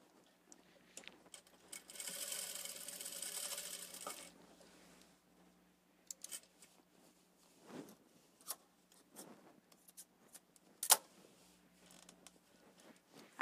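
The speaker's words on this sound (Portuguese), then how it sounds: "E vou começar a costurar aqui, ó." A sewing machine runs in one short burst of about two seconds, stitching fabric for a Christmas table decoration. Quieter fabric rustles, taps and handling noises follow.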